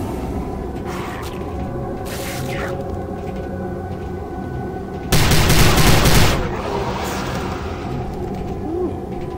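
Weapon fire in the 2006 video game Prey, a loud broadband burst of shots lasting about a second over a steady rumbling game ambience, with a brief sharp crack earlier.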